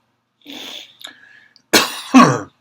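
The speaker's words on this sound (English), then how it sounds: "Hey, I can cough." A breathy sound and a brief throat clear, then two sharp, close coughs in quick succession.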